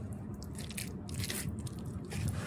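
Someone biting and chewing food during a meal, with soft, continuous crunching and mouth noises up close, steady throughout with no talk.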